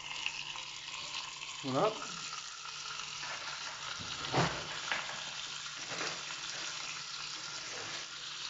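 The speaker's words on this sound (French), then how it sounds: "on y trempe le jambon dans un petit filet d'huile" Ham sizzles faintly in a thin drizzle of oil in a pan for homemade burgers, with a few soft clinks and a brief spoken word over the quiet frying.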